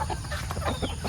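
Native chickens on a farm cluck in soft, short, overlapping calls, close by and fairly quiet, against a low background hum.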